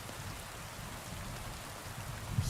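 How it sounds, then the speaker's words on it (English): Heavy rain pours down steadily in Kingdom Come: Deliverance 2, a dense, even hiss of a downpour filling the scene with constant wash and no voices. "I love that we're just sitting out here in a complete downpour."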